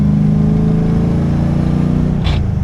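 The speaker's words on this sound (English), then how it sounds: "Oh, little grind into fourth." An LS-swapped, modified Nissan 300ZX on its original 145,000-mile transmission, the engine humming steadily close by, then a brief harsh grind as the gearbox is shifted into fourth near the end.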